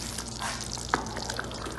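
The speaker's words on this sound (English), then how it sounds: "i lowered the stove because it's splashing" Tomatoes simmering in oil in a covered pot for chicken stew, giving a soft steady sizzle with scattered small pops and drips and one sharper spatter near the middle, quiet and close.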